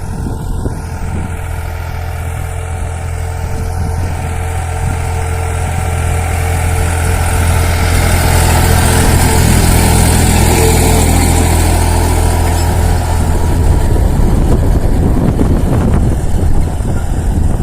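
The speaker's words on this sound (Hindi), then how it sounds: "देखिए ये ट्रैक्टर से हमारे बेड बनाए जा रहे हैं।" A tractor engine drones steadily with a low, continuous rumble, growing louder and rougher toward the end as it works close by, forming raised beds in a garlic field.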